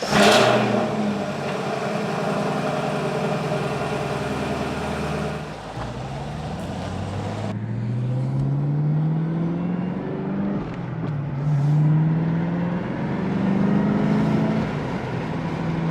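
A Chevy car engine revs and accelerates, loud and close, with rising and falling pitch sweeps as it pulls away and shifts through gears, no voices over it.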